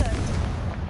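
A Confringo fire spell cast in the Hogwarts Legacy video game, a dense burst of crackling, booming blasts that fills the whole moment at steady loudness.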